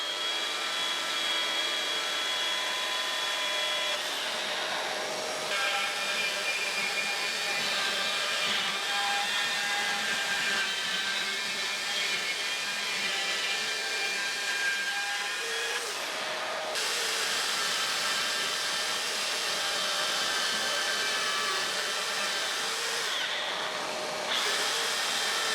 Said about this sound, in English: Now I'm going to cut with the extraction connected